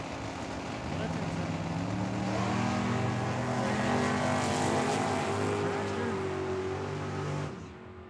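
At Tucson Dragway, a dragster and a Camaro roar off the line in a drag race, loud sustained engine howls rising in pitch together before cutting off abruptly near the end.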